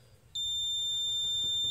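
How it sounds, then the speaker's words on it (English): A multimeter on its ohms setting gives a continuity beep while testing for a clear path to ground on a cheap Chevy Tahoe: one steady, high, thin tone starts abruptly and holds over low background noise. "this thing should beep at us if it's got a clear path to ground"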